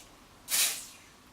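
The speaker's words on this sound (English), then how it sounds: "And then finally I picked up this makeup fixing spray." A single short hiss of makeup fixing spray from a cheap pump bottle, a close, bright burst lasting about a quarter second against a quiet room.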